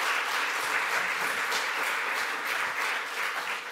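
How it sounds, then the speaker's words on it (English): A church congregation at Sunday morning worship claps in praise, a dense, steady wash of many hands applauding together that holds loud and even throughout with no talk. "Let's give God a great big hand clap of praise"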